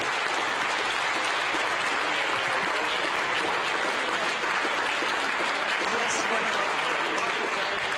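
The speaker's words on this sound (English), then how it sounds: "amidst applause here in the Mission Control Center" Sustained applause fills NASA Mission Control after the James Webb Space Telescope separates from its launch vehicle, a continuous dense clapping that holds steady for eight seconds with faint voices underneath.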